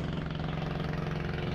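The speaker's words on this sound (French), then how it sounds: "On rejoint les îles Surin ou Surin avec des hors-bords propulsés par 4 moteurs de 300 chevaux." Speedboat driven by four 300 hp outboard motors heading to the Surin Islands in Thailand, a steady loud engine drone with a low throbbing hum, constant and close with no voices.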